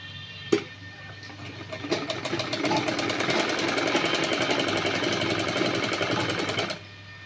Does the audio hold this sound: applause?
no